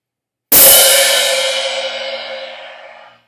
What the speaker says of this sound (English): Let's do a regular crash sounds like this.